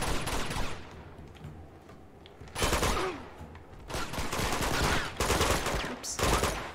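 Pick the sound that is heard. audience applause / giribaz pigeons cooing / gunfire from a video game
gunfire from a video game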